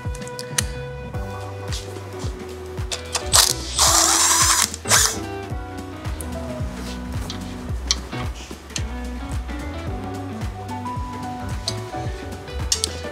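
Ratchet and tool work removing a 5mm Allen head screw from a Suzuki SG400 fender, with repeated clicking and mechanical ticks plus a brief louder burst of noise midway.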